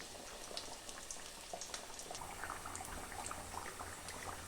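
Aloo rolls deep-fry in hot oil, giving a soft, steady bubbling sizzle with scattered small crackles. The sound stays quiet and even throughout, with no talking.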